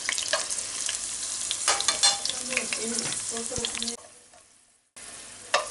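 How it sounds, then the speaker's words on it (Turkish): Garlic frying in olive oil in a pan, a steady loud sizzle with some stirring scrapes that drops away abruptly near the end, then resumes briefly. "Sarımsaklarımız da zaten kızarıyor. Şu anda zeytinyağı ve sarımsağın kokusu inanılmaz güzel."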